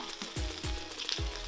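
Toasted seeds go into a hot pot and fry with a loud crackling sizzle, marked by a few sharp stirring scrapes in quick succession, close up and with no talking.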